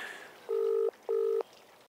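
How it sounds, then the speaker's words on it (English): A telephone is dialed, with two clear, steady tone beeps of under half a second each, separated by a short pause, close and alone over quiet room noise. "And I'm actually going to phone Ivor now to get a bit more information"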